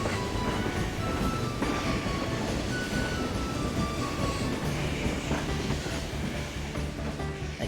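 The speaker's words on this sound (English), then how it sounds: "Let's just take the train." A train in the video game Dark Cloud 2 rolls along with a steady, dense rumble and faint clickety-clack, loud and continuous, with faint wheel squeals and no talking.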